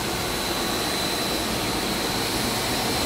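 Blower on a film blowing extrusion machine roars in a steady, loud, unbroken rush with a faint high whine running through it and no voices.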